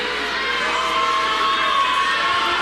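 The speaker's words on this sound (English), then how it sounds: "you can hear over the crowd mic the Model fans protesting as well" Basketball fans at a girls' championship game in a Christmas tournament protest a referee's call, a steady roar of crowd noise and shouting that fills the gym without a break.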